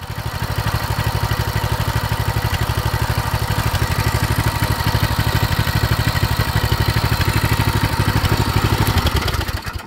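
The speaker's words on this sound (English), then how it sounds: "I'm gonna take it for a ride around the block and come back and check for leaks again" Coleman BT200X mini-bike engine running after a fuel leak repair, a loud, steady, rapid putter close by that holds evenly throughout with no talk.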